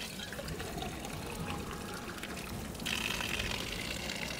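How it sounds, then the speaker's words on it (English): Natural hot spring water splashes into a cup at an outdoor spring tap in Sofia, Bulgaria: a continuous running pour over open-air background noise that grows slightly louder partway through. "I'm gonna fill my cup up and try some of this natural hot springs water"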